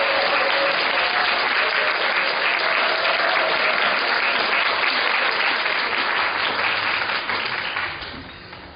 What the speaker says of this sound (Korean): 우리 나오실 때 우리 힘차게 박수로